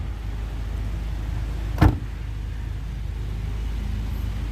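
A Peugeot 5008's power tailgate closes after a button press: a single short thud or latch clunk rises briefly from a steady low rumble of car noise, with no one talking.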